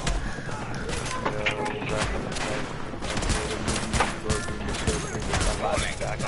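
Dense, continuous gunfire from a shooter video game, The Division, with overlapping rapid shots and impacts forming a loud, steady barrage, with players talking over it.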